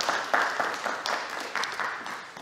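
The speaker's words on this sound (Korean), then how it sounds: "박수를 한번 해주시기 바랍니다." A church congregation applauds during a Sunday service at a Korean mission church in Berlin, giving a dense, steady wash of clapping with several louder bursts, moderately distant and without talk over it.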